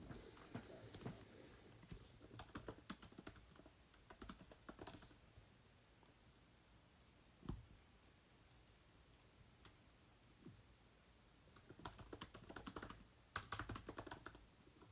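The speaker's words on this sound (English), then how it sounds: "I couldn't even use keyboards since that would be audible" Typing on a computer keyboard comes through as quiet, close bursts of rapid key clicks, separated by pauses with only a few scattered taps.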